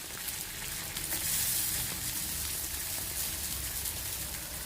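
Ghee sizzles and crackles steadily in a frying pan, a dense close hiss that holds at an even level throughout.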